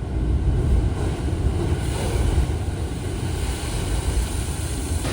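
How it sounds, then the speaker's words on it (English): Heavy Atlantic surf on Gran Canaria roars continuously with deep thunder-like rumbling and wind buffeting the microphone, waves churning against rocks nearby. "before the water splashes you can hear like almost like thunder that's coming out of the rocks"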